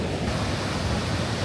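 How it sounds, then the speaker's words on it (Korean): Iguazu Falls in Argentina roars as a steady, dense broadband rush of falling water, loud and unbroken throughout with no voices heard. "이 웅장한 폭포 소리가 들리시나요"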